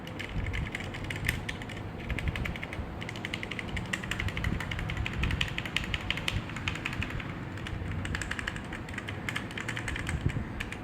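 Typing on a Cosmic Byte CB GK 28 mechanical keyboard with red switches, a dense, rapid stream of close clicky keystrokes at an even, moderate level, with no talk.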